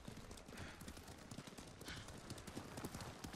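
Horse hooves clip-clop steadily in the samurai video game Ghost of Tsushima, a fairly quiet, even trotting rhythm of rapid muffled thuds running the whole time with faint background sound.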